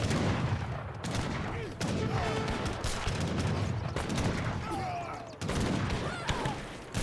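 Massed rifle volleys from Ordnance Riflemen and Imperial Recruits clash in an Age of Empires III battle, a dense, continuous crackle of overlapping shots with brief lulls and faint battlefield chatter mixed in.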